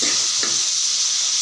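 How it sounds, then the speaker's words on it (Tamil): Tomato, ginger and garlic sautéing in a pan for a South Indian cauliflower curry, a steady close sizzle with a couple of brief stirring scrapes near the start. "தக்காளி இஞ்சி பூண்டு எல்லாம் நல்லா வணங்கிடுச்சு."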